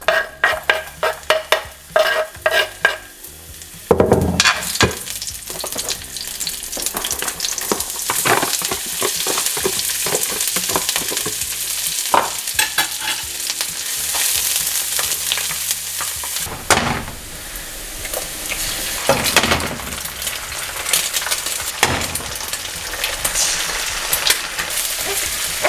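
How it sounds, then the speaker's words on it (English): Fried rice sizzling in a hot pan as it is stir-fried, with loud continuous hissing and scraping stirs and occasional clinks of utensil on metal, close up and without talk. "just gonna make the fried rice"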